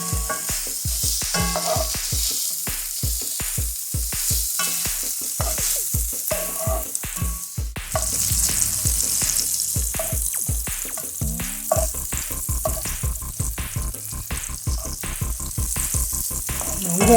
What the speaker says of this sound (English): We have this on high heat right now, so it is cooking our andouille to perfection.